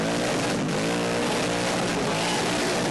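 A car does a burnout on the pad at the 2015 Summernats Burnout Masters in New South Wales, its engine screaming loudly through repeated rising and falling revs, with a harsh roar at close range.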